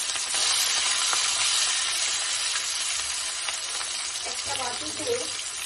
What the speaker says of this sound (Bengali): এবারে এই রুই মাছগুলো তেলের উপরে ছেড়ে দেবো হালকা করে ভেজে আমি